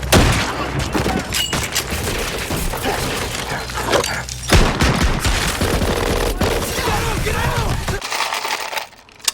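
Rapid bursts of gunfire from 1944-era firearms on a World War II film set, dense and loud with overlapping shots and cracks filling the scene, then cutting off near the end.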